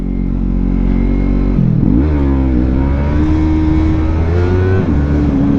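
A 2017 Yamaha MT-03 motorcycle roars loud and close as it is pushed through second gear for a wheelie, its engine pitch dropping and then climbing again in sustained revving.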